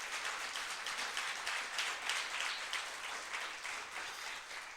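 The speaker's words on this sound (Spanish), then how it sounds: "denle un fuerte aplauso al Señor por ello" Worshippers in a church give a strong round of applause, a continuous, fairly distant wash of clapping without speech, steady throughout.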